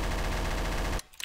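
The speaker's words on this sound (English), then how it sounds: "I hear a lot of gunfire." Rapid automatic gunfire in a video game bursts continuously for about a second, loud and close, then cuts off abruptly leaving a few faint clicks.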